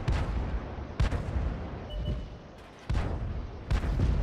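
Booming artillery shots from a Grille self-propelled gun in World of Tanks, several heavy blasts with rumbling tails at roughly one-second intervals, loud and close, with no talk over them.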